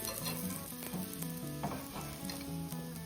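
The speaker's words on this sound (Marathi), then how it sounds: "आता यांना असं पलटून घ्यायचं आहे" A soybean chilla dry-roasts in a pan without oil after being flipped, giving a faint, continuous hiss with light crackle and a low tonal hum underneath, with no talking.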